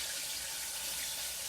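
Battered crappie fish frying in a pan, a steady dense crackling sizzle of hot oil, close and fairly loud, continuous throughout without voices.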